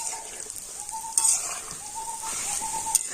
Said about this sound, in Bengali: হালকা জাল দিয়ে তো মিষ্টিগুলোকে খুব সুন্দর করে আমি ভেজে নিয়েছি